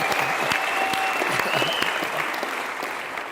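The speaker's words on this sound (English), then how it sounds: "Give him a round of applause" An audience in Cape Town claps for a graduating young man, a short burst of lively, even applause with faint voices mixed underneath.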